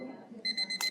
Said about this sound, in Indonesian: Saya ada alarm.